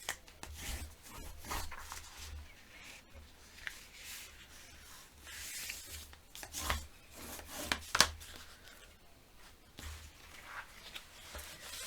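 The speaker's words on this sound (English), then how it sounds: "burnish on the folds" A bone folder burnishes the folds of paper for a mini album, producing soft, close rubbing and scraping strokes in short irregular bursts over a quiet background.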